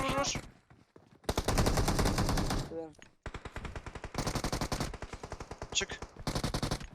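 Automatic weapons fire in the mobile game PUBG Mobile, with loud, rapid bursts of gunfire separated by short pauses, heard up close and filling most of the clip.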